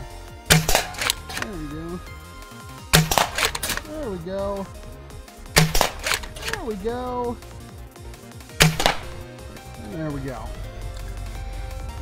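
A high-end NERF sniper blaster fires foam darts, four sharp loud shots spaced a few seconds apart, each followed by a mechanical clack, with someone talking between shots.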